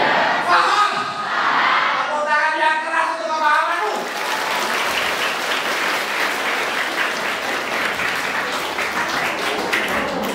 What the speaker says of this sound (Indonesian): Tepuk tangan yang keras untuk pemahamanmu.